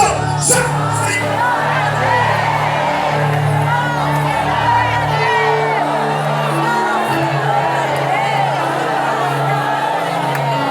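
Church congregation in a loud, continuous mass of voices shouting and cheering to God, with whoops and yells over a sustained crowd roar and musical tones throughout.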